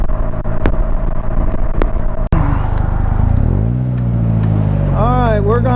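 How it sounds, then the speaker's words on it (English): A Polaris Slingshot cruising in fifth gear gives a steady, close engine drone with a sharp click partway through, then the engine note sweeps and wavers toward the end. "I have acceleration, so I can ride in fifth just fine."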